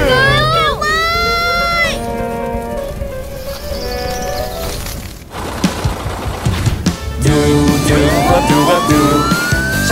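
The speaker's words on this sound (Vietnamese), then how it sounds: "Xe cứu hỏa." A cartoon fire truck siren wails in rising and falling sweeps, loud and bright, mixed with playful sound effects and music in a children's animated show.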